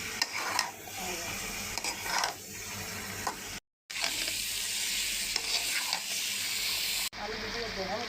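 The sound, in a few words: water added to sizzling meat and prawn curry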